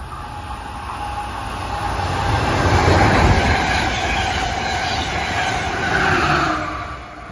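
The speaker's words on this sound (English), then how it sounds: "204 approaching is train 609 from New York to Harrisburg. Cab car first." Passenger train 609 from New York to Harrisburg passes cab car first while slowing for a curve in Bucks County, Pennsylvania, a loud rolling rumble with wheel noise that swells and eases, with no talk.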